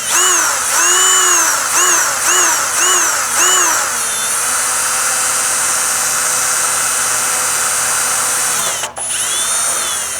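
A power drill whines up as it bores holes in Yamaha R1M motorcycle fairings, loud and close: several short pulses of rising pitch, then a long sustained high-pitched run with a brief dip near the end.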